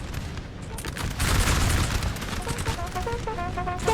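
Musket volleys crackle in a Napoleonic battle in Napoleon Total War, a dense continuous rattle of distant massed gunfire with rumbling booms, steady and loud throughout.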